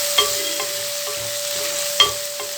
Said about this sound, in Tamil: ஒரு தக்காளி போட்டு நான் இப்போ வதக்குறேன்.